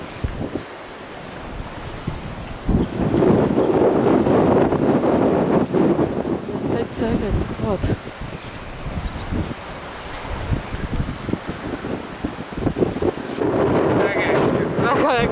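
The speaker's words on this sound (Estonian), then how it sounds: "Tuul tahab küll viia" Strong gusty wind buffets the microphone on a high lookout point in Norway, a loud continuous roar that surges and eases throughout.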